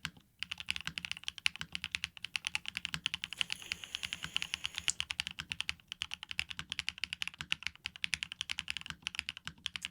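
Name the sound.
typing on a mechanical keyboard under review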